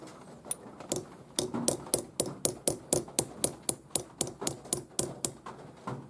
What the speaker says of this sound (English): I actually prefer hammer setting because it's just a little more precise